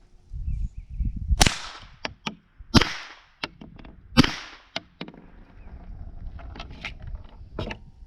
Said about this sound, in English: Do another 3 rounds of subsonic through the suppressor and see if you can tell there's a difference.